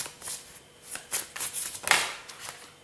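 Tarot cards gathered into a pile and shuffled by hand: a series of crisp papery riffles and slides in uneven bursts, close and fairly loud, with no talking.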